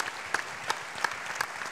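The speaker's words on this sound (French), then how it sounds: "je crois qu'on peut les applaudir bien fort" Conference audience applauding, a brief burst of scattered claps with a few sharp, distinct slaps standing out from a soft continuous patter, moderately near.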